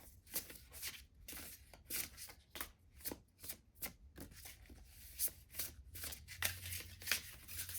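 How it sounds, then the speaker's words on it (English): Rapid riffle-and-bridge shuffling of a tarot card deck, crisp flapping bursts repeating in an uneven rhythm, close and quiet with no talking. "I've got my deck. I'm gonna give it a quick shuffle."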